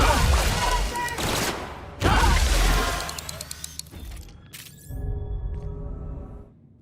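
Gunfire erupts in the sci-fi game The Outer Worlds: loud, dense volleys of shots with booming low ends, then rattling clicks and mechanical clatter as the shooting thins out.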